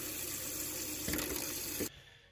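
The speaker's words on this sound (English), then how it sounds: "So you're gonna want to run your hot water as well until all the air bubbles are out." Water runs from an RV faucet in a steady, close rush, swelling briefly near the end before it is shut off abruptly and falls quiet.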